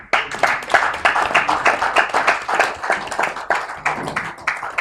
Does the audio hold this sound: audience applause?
yes